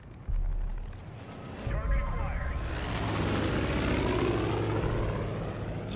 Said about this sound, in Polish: Zły samolot lata.